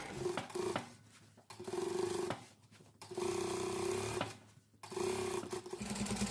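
A sewing machine runs a final line of stitching on a white blouse in steady whirring runs of a second or so, each broken by short pauses, close and clear.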